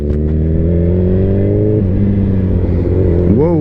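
A Suzuki Hayabusa motorcycle ridden in traffic on a low rear tire, its engine a steady close drone with a brief rev rising near the end.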